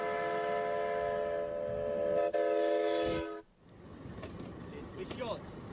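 A steam locomotive's whistle sounds a long, sustained multi-tone blast that cuts off abruptly, followed by quieter rumbling and scattered clatter, with faint talk in the background.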